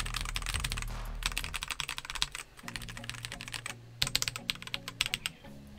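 Typing on an Irok FE75 Pro wireless mechanical 75% keyboard fitted with red switches, a steady close clatter of keystrokes with a brief lull midway, clear and fairly loud with no talking.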